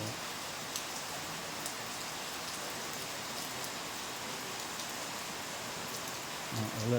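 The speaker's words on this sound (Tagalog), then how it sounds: "Ulan pa rin." Steady rain falls on surfaces in a constant even patter, moderately close, with a faint low voice or thump near the end.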